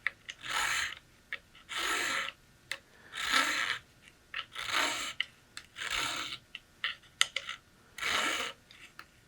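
A file rasping a bevel around the muzzle of a Traditions St. Louis Hawken rifle barrel, seven even, close strokes in a steady rhythm with short pauses between each.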